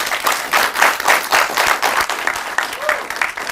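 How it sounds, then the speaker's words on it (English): An audience at a recovery-stories event on insurance payouts claps together, a dense, irregular patter of many hands with voices mixed in throughout. "please let us clap for CIMAB"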